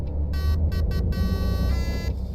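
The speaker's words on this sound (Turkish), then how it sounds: "Havalı korna." The air horn of a MAN coach in Fernbus Simulator sounds as a few quick blasts and then one longer blast. It is loud and close over the steady low drone of the engine.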